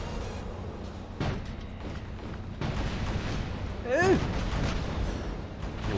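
Robot weapons in War Robots fire heavy, booming shots at scattered intervals, with a whistling sweep near the end, while a player talks over the battle.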